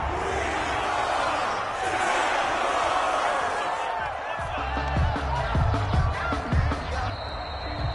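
Virtual stadium crowd in a PS4 American football video game, a steady loud roar of murmuring and cheering voices with a few louder whoops and swells near the end of the final seconds of play.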